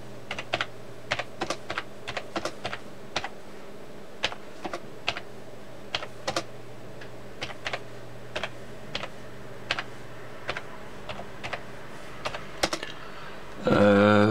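Steady typing on a computer keyboard into a translator, key clicks spaced out across the whole stretch, crisp and close, alone without speech, ending in a brief louder burst.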